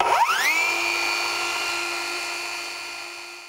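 A handheld circular saw for cutting wood whirs up to speed the moment its trigger is pulled, settling into a loud, steady high-pitched whine that holds close and alone for a few seconds.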